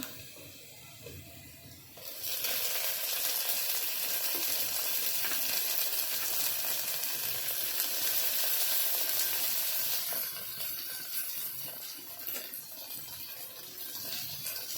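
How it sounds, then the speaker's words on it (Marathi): Onions and tomatoes frying in a pan for dry chicken, a loud, hissing sizzle that flares up suddenly and stays steady for several seconds before easing slightly, close by. "कांदा लाल होईपर्यंत भाजायचा आहे बघू शकता कांदा लाल झाला आता आपण टोमॅटो टाकूया"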